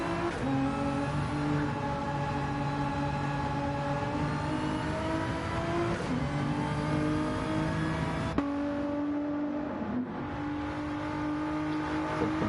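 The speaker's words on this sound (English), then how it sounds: "Cars making their way out." GT1 race cars in a racing video game drone steadily with engines at close range, pitch climbing and shifting through gears, the whine staying loud and continuous with brief drops as they pull away.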